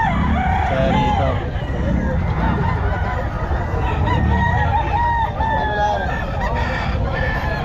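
A gamecock stag crows repeatedly at a busy Bocaue pet market, the loud, drawn-out calls rising over dense crowd noise and nearby voices throughout.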